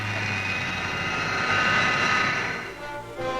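Aircraft at the 1963 Paris Air Show coming in to land, a droning engine whine with a rising tone that swells midway and then eases off, heard alone.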